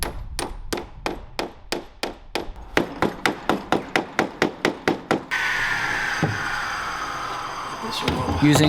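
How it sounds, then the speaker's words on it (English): A hammer strikes repeatedly over fasteners on teak gunwales of a fiberglass Canadian canoe, about fifteen sharp, evenly spaced metallic knocks close by, followed by a steady whooshing noise and a brief clatter. "leaving enough that you can hammer over with your hammer"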